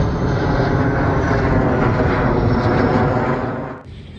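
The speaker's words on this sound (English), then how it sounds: "There's a lot of Air Force jets, fighter jets flying over the top constantly." A military fighter jet roars loudly overhead, a steady broad engine rumble holding for several seconds before cutting off abruptly near the end.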